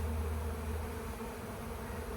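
Honey bees from a trapped swarm buzz in a steady, dense drone inside a busy hive, close and continuous with no voices.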